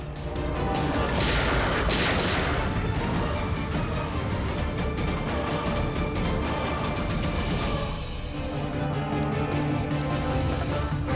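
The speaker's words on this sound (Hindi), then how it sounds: "मुझे कवर करो और फायरिंग करते रहना" Rapid, continuous bursts of gunfire and loud cracks, dense and chaotic throughout, with heavier booms early on.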